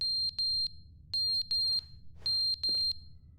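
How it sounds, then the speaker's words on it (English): A smoke alarm with a dying battery beeps in The Stanley Parable: Ultra Deluxe, giving bright, clipped high chirps in quick clusters of two or three separated by short pauses. "the smoke alarm battery died"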